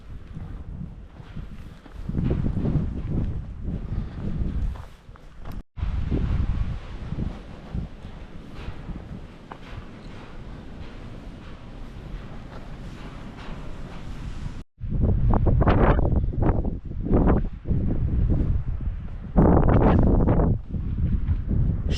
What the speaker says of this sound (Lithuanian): Vėjas labai stiprus šiandien.